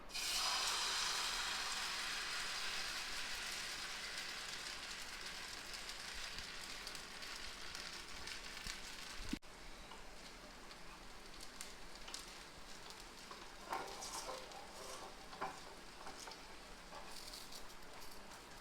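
Rava palak dosa batter sizzling on a hot oiled pan, a steady soft hiss and crackle heard close but fairly quiet, with a brief knock midway and light patter continuing after.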